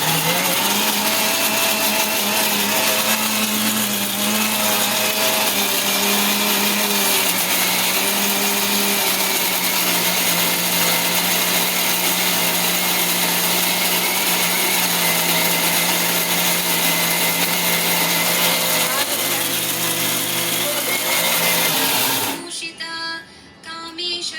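A mixer grinder runs steadily and loudly, grinding adai dosa batter with a continuous whirring drone for about 22 seconds before it cuts off abruptly.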